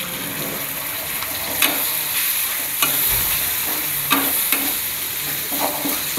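Jengkol frying in a pan for sambal jengkol teri, a loud continuous sizzle with occasional spoon knocks and stirring scrapes against the pan.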